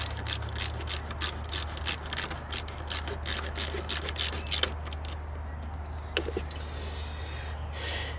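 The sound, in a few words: quarter-inch ratchet tightening alternator bolt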